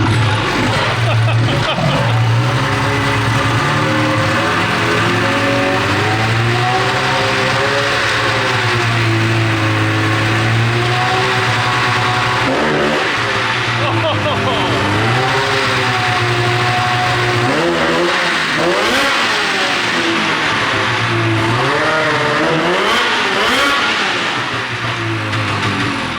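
A 13-year-old race snowmobile engine revs hard and bogs down over and over, loud and close, with the pitch rising and sagging throughout and voices now and then over the engine.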